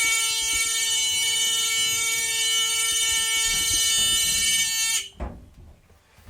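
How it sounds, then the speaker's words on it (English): Rear emergency exit alarm on a bus during a vehicle inspection: a loud continuous electronic buzz with strong harmonics for about five seconds, then cutting off abruptly, followed by a thud and quiet. "make sure that it does open from the inside and the alarm works"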